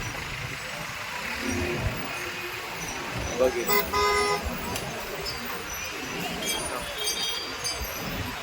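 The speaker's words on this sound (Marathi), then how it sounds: "जिथपर्यंत नजर जाईल तिथपर्यंत संपूर्ण ट्रॅफिक" Dense road traffic jammed alongside a 2024 Palkhi pilgrimage procession: a steady mix of engine rumble with a loud car horn sounding in short bursts near the middle, and someone talking over the traffic noise.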